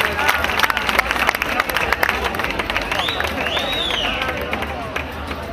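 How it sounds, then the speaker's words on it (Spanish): Audience applause at a local festival pageant crowning ceremony, sustained crowd clapping with cheering and a whistle, while an announcer talks over the hall. "Un aplauso."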